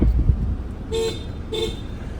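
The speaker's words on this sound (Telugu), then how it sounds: "హారన్ హారన్ పర్ఫెక్ట్ ఉంది" A 2017 diesel manual Toyota Fortuner's horn sounds twice in short beeps, close and clear over a low engine hum.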